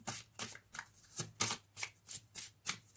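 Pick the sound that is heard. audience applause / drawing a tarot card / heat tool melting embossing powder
drawing a tarot card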